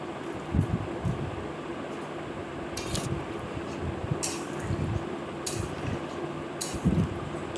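Water is added to an egg, potato and soybean curry in a cooking pot, giving a steady low trickle and slosh with a few brief brighter splashes, close and moderately quiet, with no talk.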